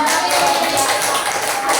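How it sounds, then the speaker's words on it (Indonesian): Applause from a group during a learning session, a dense, steady patter of many hands clapping that fills the whole short moment at close range. "tepuk tangan dulu"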